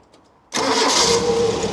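A Renault 5 Gordini Atmo engine in a workshop unit on a cold evening, silent at first, then catching abruptly and settling into a loud, steady, close idle that runs to the end.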